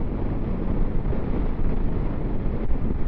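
Wind buffets steadily during a solo motorcycle ride on a big curve, a constant loud broadband rush over the microphone with no speech and no breaks.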